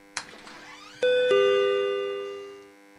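At a gas station, a door bangs open in an audio drama and an entry chime rings two bright tones that ring out and slowly fade, close and clear with no talking.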